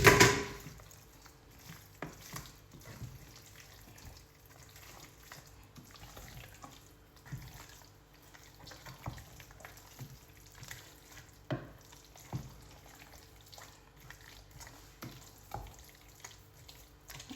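Ndolé stew with meat being stirred in a pot, a soft bubbling simmer with faint scraping and clinking strokes at irregular intervals, quiet and close, no voices.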